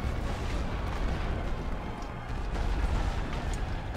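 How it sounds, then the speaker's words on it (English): An artillery barrage rolls on in the WWI strategy game The Great War: Western Front, a dense, continuous roar of overlapping distant blasts and rumbling explosions that holds at a loud, even level. "So if I just hit them with another artillery barrage,"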